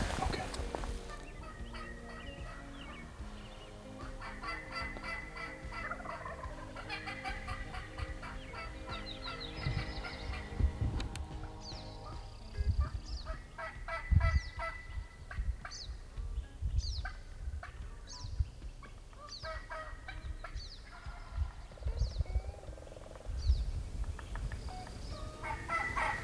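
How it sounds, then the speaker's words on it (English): A wild Merriam's turkey gobbles repeatedly on public land in Idaho, with rapid rattling calls at a moderate distance over faint outdoor background. Other bird clucks are scattered through the scene. "So a turkey, if he's on a ridge and he gobbles, he may sound like he's right next to you."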